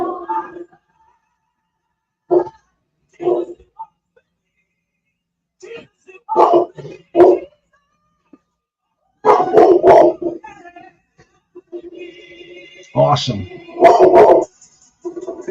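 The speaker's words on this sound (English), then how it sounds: "Excuse my dog." A dog barks and howls in scattered loud bursts, some short and some drawn out, with long quiet gaps and a voice talking between them.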